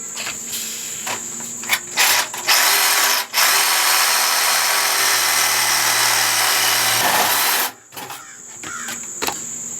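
Power tool cutting through an old rusted shallow well pump pipe, a loud sustained grinding whine lasting several seconds, with short bursts before and after.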